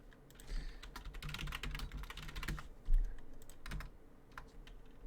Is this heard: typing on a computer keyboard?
yes